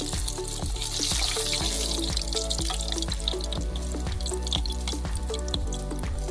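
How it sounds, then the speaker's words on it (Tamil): Homemade KFC-style chicken leg pieces fry in a pan over medium heat, giving a steady, close sizzling hiss with small crackles throughout and no talking. "சிக்கன் லெக் பீஸை நல்லா எல்லா சைடுமே பரட்டி விட்டு ஒரு 1/4 மணி நேரம் நல்லா வேக வச்சாச்சு"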